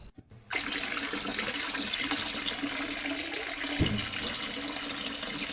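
Tap water pours steadily into a watering can at a kitchen sink, a loud continuous hissing rush that starts abruptly after a brief clatter and runs unbroken, with a small thump partway through.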